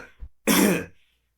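A narrator clears his throat with one short, harsh cough-like burst, preceded by a soft breath and then silence; a voice imitating a cough.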